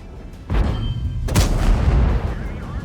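Tank cannon fire in a tank video game: two loud, booming shots about a second apart, the second sharper and brighter, over a steady low engine rumble.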